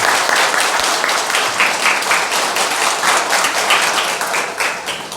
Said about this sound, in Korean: 고생하셨으니까 박수 한번 해주십시오